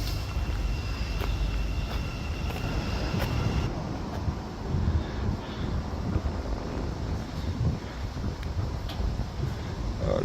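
Steady wind buffets a microphone outside Stevenage Probation Office, making a continuous low rumble and roar throughout, with no voices.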